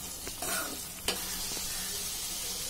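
Fried plantain pieces sizzle gently in a pan while being stirred, with a quiet, steady crackle and a couple of brief scraping clatters from the spoon.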